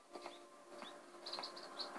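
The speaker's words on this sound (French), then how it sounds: "Un oiseau." Faint, high bird chirps in the video game Zelda: Skyward Sword come in small bursts over a quiet background hum, growing a little busier toward the end.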